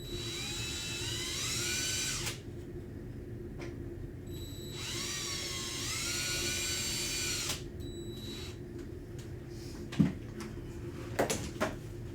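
A power drill cuts screw recesses into a cockpit sub panel for a Cessna 172 home cockpit rebuild. Two whining bursts rise in pitch, each lasting a few seconds, followed by quieter clicks and knocks nearby.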